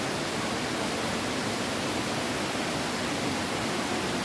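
A small waterfall inside a humid plant house at Hong Kong Park, a steady broad rushing hiss of falling water that stays constant and fairly soft throughout.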